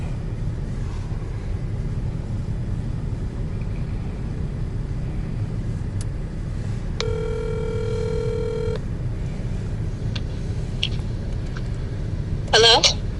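A phone call is placed, with a steady ringback tone pulsing for about two seconds over a low rumbling background, followed later by brief sharp electronic blips near the end; faint speech is also present.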